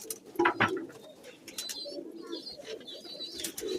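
Pigeons kept at a home loft coo repeatedly in soft, overlapping calls, mixed with sharper bird chirps and light background noise, fairly close and moderately loud.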